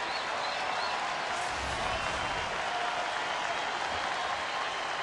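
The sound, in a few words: baseball stadium crowd rising to its feet, cheering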